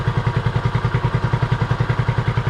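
A Honda CB250RS motorcycle engine idles steadily up close with the lights on, a regular low thudding pulse and faint mechanical clatter repeating evenly throughout.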